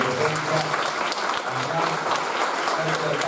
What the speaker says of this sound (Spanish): Despedimos con un fuerte aplauso